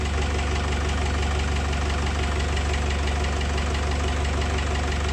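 A 1957 IH Farmall 350 diesel tractor engine idles steadily nearby, a constant, loud low-pitched rumble with a rough knocking pulse and no voices.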